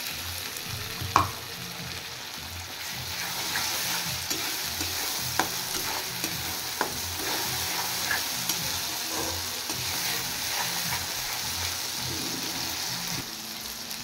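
Puréed tomato, made from two tomatoes, crackles and sizzles steadily in a hot pan for a Bengali lunch dish, with occasional scrapes and knocks of a spoon stirring it.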